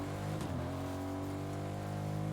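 A car engine in Fortnite Zero Build hums steadily with a brief rev, distant and moderately quiet, with no talk over it.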